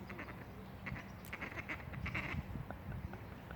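Ducks quacking in a city park, a run of short nasal calls repeating irregularly over a low steady background hum, moderately close and clear with no talking.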